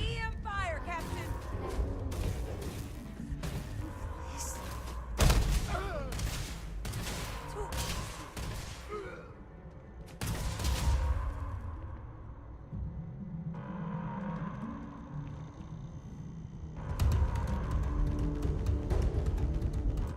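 EM weapon fire during a firefight in the video game Starfield comes as repeated sharp bursts of shots and impacts, loud and close, arriving in clusters with pauses between, while people speak over the combat.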